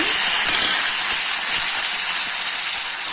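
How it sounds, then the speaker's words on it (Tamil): Small onions sizzle hard in hot oil for a tomato gravy, a loud, steady, hissing crackle that fills the clip close up, with no talk. "இப்போ வந்து நம்ம இந்த சின்ன வெங்காயத்தை போட்டுக்கலாங்க."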